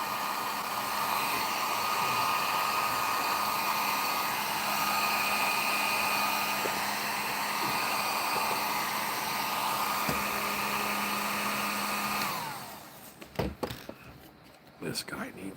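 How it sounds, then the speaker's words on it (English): Heat gun blows a steady, loud hot-air whine for about twelve seconds while warming a model part for a Monstar figure from SilverHawks, then cuts off, leaving handling knocks. "Just casually heat gunning a crotch."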